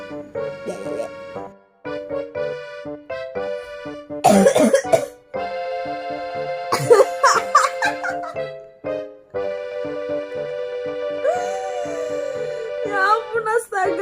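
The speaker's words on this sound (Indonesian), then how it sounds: "Aku tuh batuk loh Gem." Repeated coughs and throat clearing from a person ring out in short bursts, close and fairly loud, over a tonal background that sounds like music.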